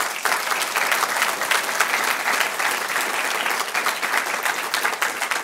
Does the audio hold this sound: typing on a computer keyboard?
no